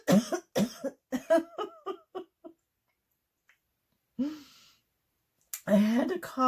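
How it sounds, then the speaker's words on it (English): A person doing acrylic paint pouring gives a single short, sharp cough between bursts of voiced sounds and quiet pauses, fairly close and clear. "I had to cough"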